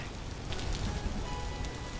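Rain falling in the video game Vintage Story, a soft, steady hiss of drops on surfaces with faint low rumble, continuous and fairly quiet with no distinct events.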